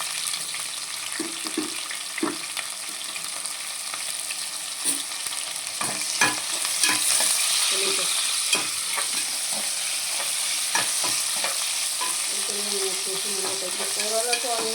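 Chopped onion sizzles and fries in a pan for a mushroom biryani, with a steady hiss broken by clattering stirs and scrapes throughout; no one speaks.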